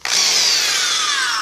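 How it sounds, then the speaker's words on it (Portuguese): A combined electric drill and screwdriver spins up abruptly and runs at high speed, cutting into the rivet head on a centrifuge motor; a loud, steady whine that starts sharply and continues alone, slowly falling in pitch as it bites. "Vamos colocar a furadeira na tomada aqui."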